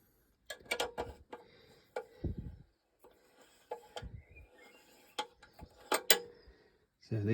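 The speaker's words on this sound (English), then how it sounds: "So I'll start winding the bolt in." Ratchet turning a bolt into a Heli-Coil thread insert on a vintage Norton Dominator motorcycle part, with irregular close clicks and short turning strokes separated by pauses.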